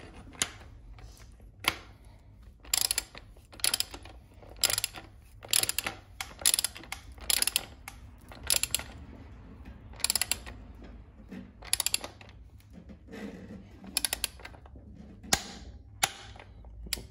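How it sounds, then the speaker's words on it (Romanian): Ratcheting clicks of a wrench tightening the central nut on a motorcycle chain sprocket, short bursts of sharp mechanical clicks repeating irregularly over a low background hum, close and fairly quiet. "Acum putem strânge piulița centrală."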